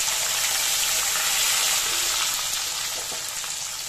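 Onions and garlic hit hot oil in a wok while chilli fish is being cooked: a loud, steady, hissing sizzle that fills the whole stretch and eases off slightly near the end, with no talking.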